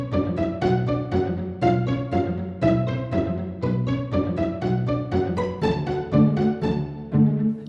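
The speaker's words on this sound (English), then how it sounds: "The next one up, it's the Logic Pizzicato String Ensemble." Pizzicato string ensemble from Logic's stock library, a rapid bouncy run of short plucked notes in several layered voices, each attack snapping and fading quickly, continuous, close and alone.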